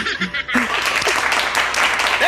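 An audience applauds at a political commentary gathering, dense clapping swelling in after a brief pause and continuing steadily, with voices and scattered laughter mixed in.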